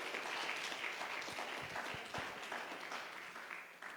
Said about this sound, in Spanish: ¿Alguien le puede dar palmas al Señor?